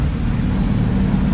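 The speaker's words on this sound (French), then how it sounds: "Bon, bah, j'ai été contraint d'allumer le moteur." Inboard engine of a Sun Odyssey 36 sailboat running at sea, a steady low droning rumble with wind noise over it, continuous and close, with no talking.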